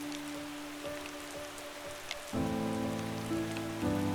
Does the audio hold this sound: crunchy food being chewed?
no